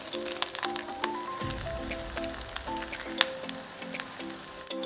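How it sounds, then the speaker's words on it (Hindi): Fish egg pakoda batter fries in hot oil, giving off a close, lively sizzle full of crackles and small pops, with a faint humming tone behind it. "इसको करते हैं अभी फ्राई। तो डालते हैं पकौड़े जैसा"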